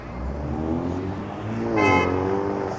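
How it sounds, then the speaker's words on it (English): A car horn toots briefly amid steady traffic rumble on a downtown Toronto street on a gloomy afternoon, the honk short and moderately near over the engine noise. "Honk honk."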